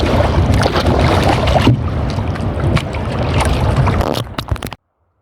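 Strong wind roars steadily and loudly for several seconds, with gusty surges and buffeting, then cuts off abruptly near the end.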